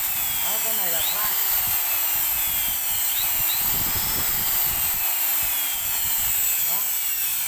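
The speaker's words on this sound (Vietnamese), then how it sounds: "cái này là khoan" A power drill in ordinary drilling mode runs continuously at close range, loud, its whine rising and dipping in pitch as speed varies, with some talking underneath.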